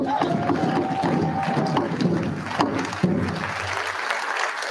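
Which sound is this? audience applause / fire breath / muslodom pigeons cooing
audience applause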